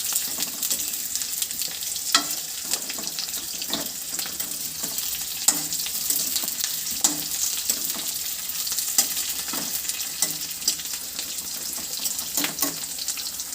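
Potatoes and onions fry together in a pan with a steady broadband sizzle, punctuated by the scrape and clack of stirring several times throughout; no voice.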